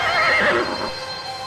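A single horse lets out a close, loud whinny lasting about a second, which then fades into near silence.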